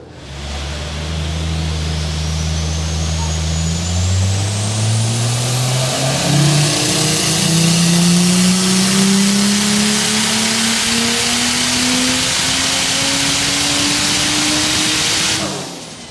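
Turbocharged Ford Falcon F6 with a Barra engine on E85 fuel, revving through a dyno run: a loud, close, rising engine roar that climbs steadily in pitch for about fifteen seconds before cutting off.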